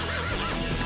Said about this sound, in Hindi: क्या खूबसूरत घोड़ा है टॉम।